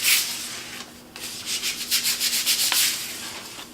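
Light, rhythmic sanding strokes on a Giani Granite-coated Formica countertop, a steady series of soft scratchy rasps close by, with no voices.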